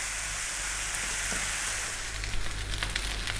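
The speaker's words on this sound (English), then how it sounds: "That there is your rice frying." Steady, close sizzling and crackling of basmati rice frying in a hot pan, a low hum underneath and a few sharper pops toward the end.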